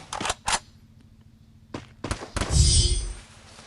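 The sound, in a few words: gunfire in a video game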